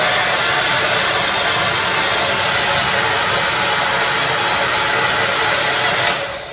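A 1937 Remington New York hair dryer runs steadily on medium heat, a loud, constant broadband whoosh with a low motor hum that holds even for several seconds before easing slightly near the end.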